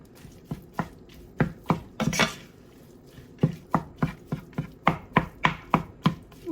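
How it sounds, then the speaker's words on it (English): A wooden spoon breaks up chili meat with onions in a pan, making a steady run of sharp, close knocks and scrapes at a brisk rhythm, about a dozen distinct strikes with a short pause in the middle. "We just want to kind of break up the meat a bit and then integrate it with the onions."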